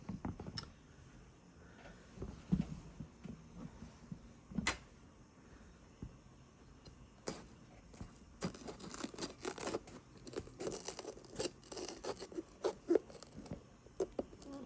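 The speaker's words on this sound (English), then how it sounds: "Next, I'm going to cut up our peppers." Knife chopping two green and one red bell pepper for garden pickles, with scattered soft taps and cuts close by, busier toward the end and no talk.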